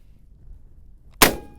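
A single loud shotgun blast fired at a clay target during a beginner's clay pigeon shooting lesson, a sharp close crack with a brief ringing decay after a quiet lead-in.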